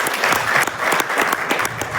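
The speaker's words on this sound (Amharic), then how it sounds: "አጨብጭቡለት" A hall audience applauds the winner of a three-bedroom home in a prize lottery draw. Many hands clap in a continuous, fairly loud wash, with faint voices mixed in.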